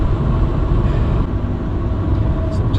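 A BMW Compact 318ti engine driving through a set of corners, a loud steady drone with road and wind roar inside the car, shifting slightly as it holds speed.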